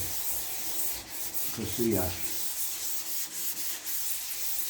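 Wet rubbing of primer filler on the body of a VW Beetle trailer, a steady soft abrasive scrubbing heard close up with a brief louder swirl partway through and a single short word spoken.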